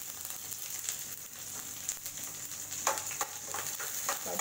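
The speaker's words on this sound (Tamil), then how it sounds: "கடுகு நல்லா பொரிஞ்சிருச்சு." Mustard seeds splutter in hot oil, a dense steady crackle with scattered sharper pops that grow more frequent toward the end, close and fairly loud, with no talking.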